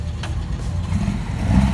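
Classic cars pulling away class by class at the Tour Auto 2018 rally, a steady low engine rumble that swells toward the end as a car accelerates off nearby.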